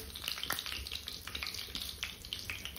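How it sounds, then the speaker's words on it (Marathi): Cumin seeds frying in hot oil for misal, cooked on a wood-fired stove, a faint steady crackling sizzle with small popping bursts throughout. "मसाले थोडेसे हलकेसे लाल झाले की लगेच जिरं पण टाकून घेऊ"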